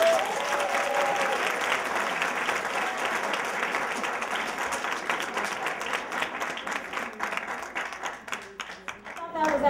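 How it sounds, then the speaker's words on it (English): An audience at Robert Morris University breaks into sustained applause. The thick clapping carries through nearly ten seconds with crowd voices mixed in, thinning toward the end. "Can I at least get a round of applause?"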